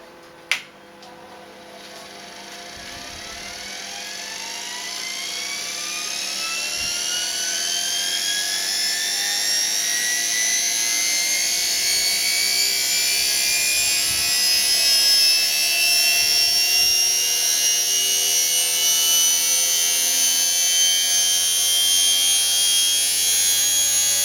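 A lathe's electric motor, set to run near 1170 rpm, starts with a sharp click and spins up into a steady whine that rises in pitch and then holds loud and even over a low hum, with no talking.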